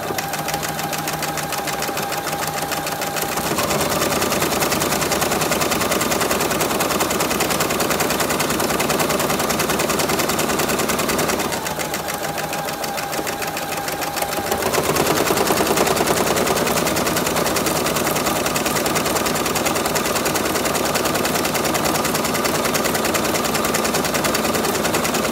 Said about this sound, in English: I'm gonna go over to the machine, I'm gonna do the buttonhole